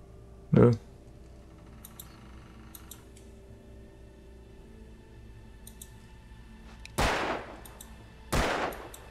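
Three sharp gunshot blasts in the video game Alan Wake, one early and two close together near the end, with faint clicking and quiet background between them.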